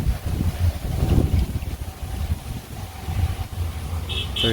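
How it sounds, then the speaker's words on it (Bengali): Wind gusts outdoors by a roadside during Bangladesh's rainy season as rain threatens, a steady breathy rumble buffeting the microphone, with a faint distant vehicle hum and a brief high tone near the end. "আবার বাতাস করছে"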